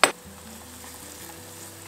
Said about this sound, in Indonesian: Ini kita masak lagi sampai gulanya itu kayak kecoklatan ya